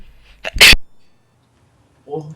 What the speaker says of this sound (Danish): Nej, jeg hørte godt det nøst.